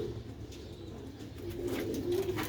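Tiger pigeons coo in a low, soft, rolling murmur close by, a few drawn-out throaty calls swelling toward the end over quiet background hiss.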